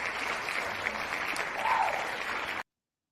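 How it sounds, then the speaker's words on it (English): A small audience applauds to welcome guests at a talk show, with steady clapping at moderate volume that swells slightly and then stops abruptly. "let me welcome you guys by giving you a round of applause"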